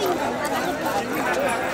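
Dense crowd chatter and babble at a Ganga bathing festival on Sankranti in Kashi, a steady hubbub of many overlapping voices with no single voice standing out.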